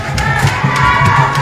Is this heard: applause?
yes